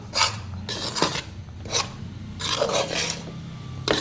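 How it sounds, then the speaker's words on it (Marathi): A spoon scraping and stirring gram flour (besan) as it roasts in a pan: about six rough, rasping strokes in an irregular rhythm, close and fairly loud, with short gaps between them. "आता आपल्याला व्यवस्थित बेसन भाजून घ्यायचं आहे"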